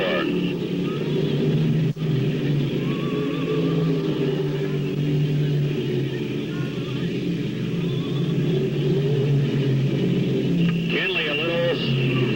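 Stock race cars at New Smyrna in 1985, four running nose to tail out of turn 4, give a steady loud engine roar that holds throughout, with some rumble and a brief shift near the end.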